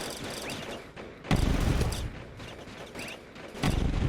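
Video game gunfire comes in rapid bursts of automatic shots, loud and close, with a sustained volley in the middle and another burst at the end over a busy game background.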